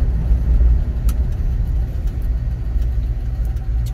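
A 1969 Ford Mustang Boss 302 is driving, its engine giving a loud, steady low rumble heard from inside the car, with faint clicks and rattles over the drone.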